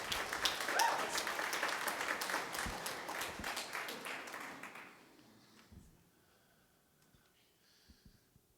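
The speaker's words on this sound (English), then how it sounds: "Let's have a hand clap for somebody who's joyful about seeing their loved ones again." A church congregation claps together in a burst of dense applause that fades out after about five seconds, leaving quiet room tone and a few faint taps.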